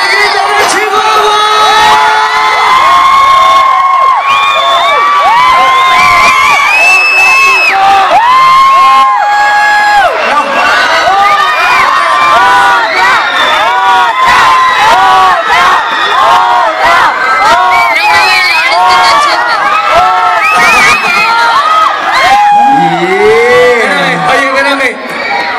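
Large concert crowd at a Chihuahua show shouting the grito de Chihuahua, a loud sustained mass of whoops, yells and cheering voices that fills the space for the whole stretch.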